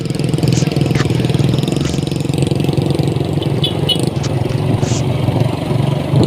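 A motorcycle engine drones steadily and loudly throughout, a continuous close rumble with no pauses, from a single motorcycle overloaded with four riders.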